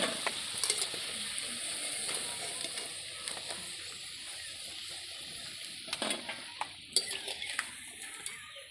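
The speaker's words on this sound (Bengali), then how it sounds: "পকোড়াগুলো ভাজা হয়ে গেছে, আমরা এবার তুলে নেব" Potato and egg pakoras frying in hot oil, a steady soft sizzle running throughout with occasional clinks and scrapes of a utensil against the pan, close and moderately quiet with no talking.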